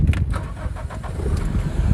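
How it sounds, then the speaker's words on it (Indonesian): A 1997 Toyota Corolla with the 4A-FE engine cranking and catching, then settling into a steady, dry low rumble up close, with no talking over it. "mesinnya mobil ini kalau masih original itu renyah dia. Suaranya kering."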